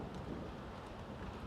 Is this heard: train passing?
no